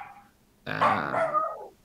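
A dog lets out a short, loud growling bark, a single rough burst close by after a moment of near quiet, fading quickly.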